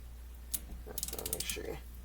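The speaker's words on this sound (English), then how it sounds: "you're going to need a mechanic wrench, which is used to remove these bolts" A mechanic's wrench ratchets and clicks while removing the bolts from the motor of a Mainstays SFC1-500B 20-inch high-velocity fan, with a single sharp click followed by a quiet run of rapid metallic ticks that sit close to the microphone.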